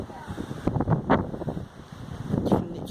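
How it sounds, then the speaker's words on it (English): Strong wind buffets the microphone on a night in Ibiza near a pool, with gusty rumbling that rises and falls continuously and faint talk in the background. "very windy."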